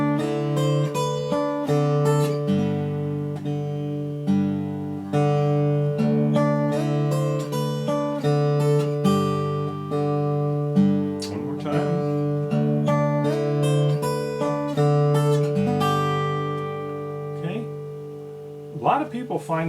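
Slack key guitar plays a taropatch turnaround built on double stops, a steady run of plucked paired notes that ring on without pause for about twenty seconds, close and clear with no voices over it.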